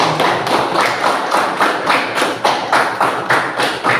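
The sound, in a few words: classroom applause for a group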